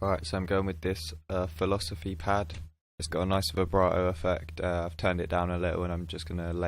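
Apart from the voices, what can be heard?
None of the usual background noises is heard.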